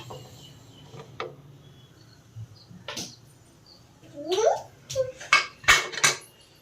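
A pressure cooker lid is fitted and locked, producing scattered metallic clanks and scrapes that grow louder and more frequent toward the end, close by in a quiet kitchen.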